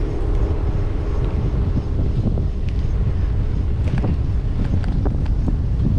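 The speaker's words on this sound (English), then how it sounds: "Getting a little wind here. I'm assuming you can probably hear it." Steady wind buffeting an outdoor microphone on Summerland Key in the Florida Keys, a continuous loud low rumble filling the whole stretch with faint scattered ticks over it and no voices.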